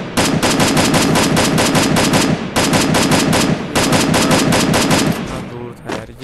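Rapid automatic gunfire from a gun in the mobile battle royale game Free Fire, loud sustained bursts of rhythmic shots with a short pause near the middle, fading out at the end.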